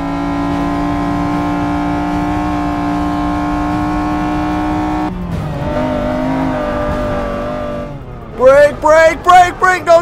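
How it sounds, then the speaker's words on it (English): McLaren F1 car racing in Forza Motorsport 6, a loud engine holding a high steady note, then dropping and climbing again through gears, ending in sharp bursts of revving; a voice speaks over parts of it. "The McLaren F1 really is good in a straight line."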